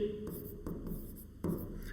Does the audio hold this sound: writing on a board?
yes